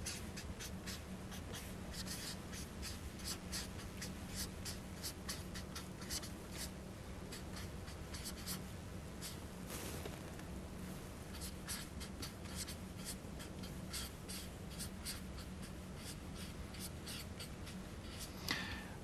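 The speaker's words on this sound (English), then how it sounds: "I'm just going to write this expression out again." Pencil scratching steadily across paper as a maths expression is written out during a partial fractions lesson, a continuous close scribble of short strokes and taps with no talking.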